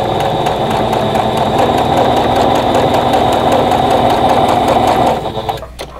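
A sewing machine chain-piecing quilt rectangles and squares runs in a steady, continuous stitching whir, close and loud, then slows and stops near the end.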